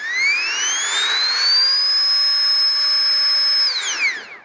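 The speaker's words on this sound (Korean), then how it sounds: "엄청나게 시끄럽죠. 근데 이렇게 펌프를 사용을 할 때에는 세기 조절은 안 됩니다." The built-in air pump of a camping lantern kettle runs loudly and close: a shrill electric whine rises in pitch, holds steady, then drops away as the pump stops.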